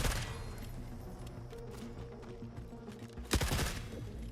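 Gunfire in The Forever Winter, a steady low rumble of distant shots with one louder, sharper burst near the end, no one speaking.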